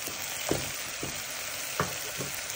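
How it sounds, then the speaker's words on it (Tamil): Spring onion flowers and tamarind powder sauté in a pan for a Jaffna-style dish, a steady frying hiss broken by several spatula scrapes at uneven intervals. "எல்லாம் சேர்த்து வதங்குறதுக்கு நீங்கள் அப்பப்போ கிளறி விடுங்க"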